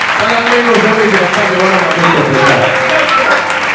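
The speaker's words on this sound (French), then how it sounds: "Que celui qui croit à cette parole se lève et commence à acclamer" Church congregation cheering and applauding, a dense continuous wash of clapping and voices filling the room at high level, with crowd shouting mixed throughout.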